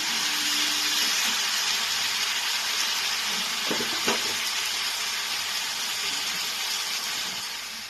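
Pumpkin pieces sautéing with spices in a pan for a Bengali pumpkin and fish-head ghonto, giving a steady, moderately loud frying hiss with a few soft stirring knocks midway.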